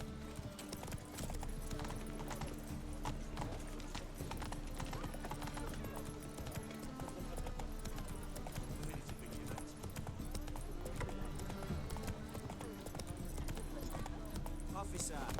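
Hooves of Roach, a horse in The Witcher 3, clip-clop at a steady gallop through a dense game soundscape with music and ambient noise, while voices talk over it.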